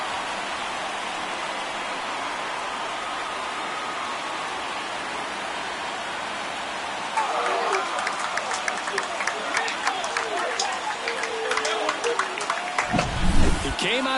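Stadium crowd noise from MLB The Show 24 after a home run: a steady wash of distant crowd roar that swells into louder cheering and clapping partway through, with commentary talking over it.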